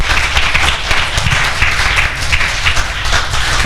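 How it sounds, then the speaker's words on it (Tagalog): A church congregation applauds, a dense, loud and steady wash of many hands clapping that holds for the whole stretch, with no voices standing out above it. "bakit po laging pumapalakpak ang mga taga-EIG?"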